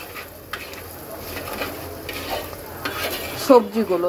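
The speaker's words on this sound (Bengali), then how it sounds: "তো দিয়ে দিলাম আলু আর সাজনাটা দেওয়ার পর এবার আমি মশলার সাথে মিক্সড করে দিলাম।" Fried potatoes and drumsticks stirred with ground spices in a pan for a prawn curry, giving a continuous sizzle with scraping and clattering of the spoon, and a few clinks near the end.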